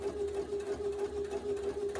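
A sewing machine stitches a French seam on a shirt with a steady, close motor hum and a fast, even mechanical chatter of the needle.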